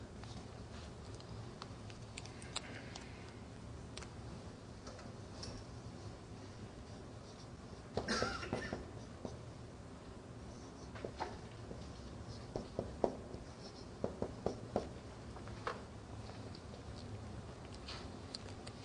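Marker or chalk scratching on a board during an Arabic lesson, faint intermittent strokes and taps against a quiet room hum, with a louder squeaky stroke midway and a cluster of small taps later.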